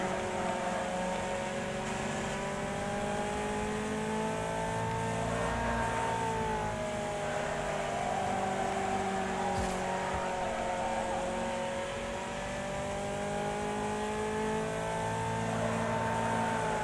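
A race car engine in the Wreckfest video game drones steadily at high revs for the whole stretch, with slight pitch swells from shifting and throttle changes and no talking over it.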